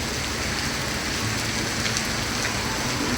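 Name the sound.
heavy rain falling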